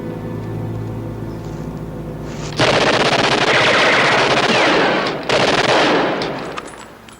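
Machine gun fire in a World War II combat scene from a TV series. Sustained, loud bursts of rapid automatic gunfire with a brief break before it resumes and then tails off.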